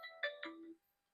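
A phone ringtone plays a short three-note chiming phrase, clear and moderately faint, ending in silence.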